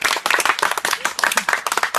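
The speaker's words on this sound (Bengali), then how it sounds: "সবাই তহিদের জন্য হাততালি হবে।" An audience claps for a giveaway winner: a short, lively burst of brisk, evenly paced hand claps, close and loud.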